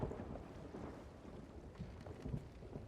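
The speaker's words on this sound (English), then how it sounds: "I keep an eye out on that storm too." A thunderstorm at sea in the pirate game Sea of Thieves, heard as a low continuous rumble of thunder and rain, faint and distant, with slight swells and no talk.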